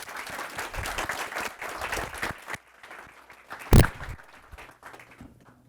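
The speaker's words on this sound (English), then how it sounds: "So please join me in a round of applause for all the people who helped make today possible" Applause from a conference audience at a storage technology event, a room of people clapping steadily for a couple of seconds before it thins to a few scattered claps, with a sharp knock or bump near the end.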